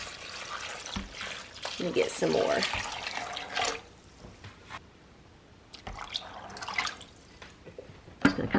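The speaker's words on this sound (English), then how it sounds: "I'm going to put about 6 cups of water." Water from a tap is poured into a pot of southern pinto beans in a home kitchen, splashing and trickling in bursts with pauses between them, while someone speaks briefly.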